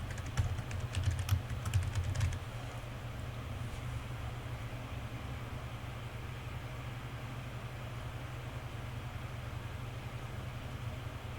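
Computer keyboard typing, a short burst of close key clicks in the first couple of seconds, followed by a long stretch of low steady room hum with no voices.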